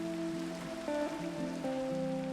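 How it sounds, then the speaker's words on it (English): Minecraft rain hisses as a soft, steady patter beneath a louder melodic tone of shifting sustained game music notes, fairly quiet overall, with no talking. "I think it just made it rain."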